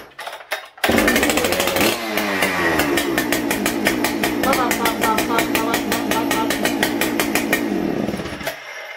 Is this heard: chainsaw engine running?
yes